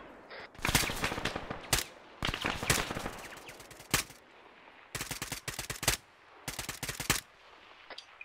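Bursts of automatic rifle and machine-gun fire from the military shooter Arma 3 ring out in several sharp, loud volleys separated by short pauses, with no talking heard.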